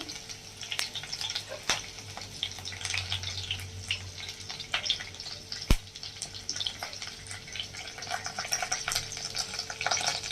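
Ginger, garlic slivers and curry leaves frying in hot oil for egg rice, giving a steady low sizzle with light crackles and a few sharp clicks, fairly faint throughout and no voices.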